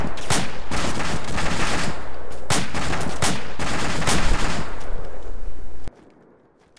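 Gunfire in ArmA 2 Operation Arrowhead with the ACE mod, a string of loud, close shots and short bursts in an irregular rhythm that stops abruptly near the end.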